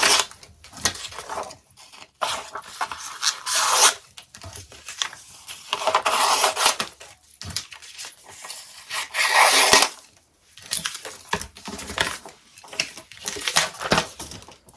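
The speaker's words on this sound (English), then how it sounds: "So I'm just going to get my trusty paper scissors." Paper scissors slice through a sheet of paper in repeated bursts of crisp snipping and rustling, close and fairly loud, with short pauses between cuts.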